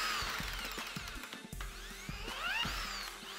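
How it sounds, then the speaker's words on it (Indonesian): Lightweight steel wall shelf being fastened with rivets, a few quiet sharp clicks and short mechanical pops from the rivet tool against a low workshop hum. "Selanjutnya kita akan kencangkan menggunakan paku rivet"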